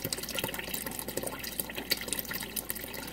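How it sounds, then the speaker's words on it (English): Water runs from a tap, filling a washing machine, a steady close splashing rush with no voices over it. "So I have to turn the water off here."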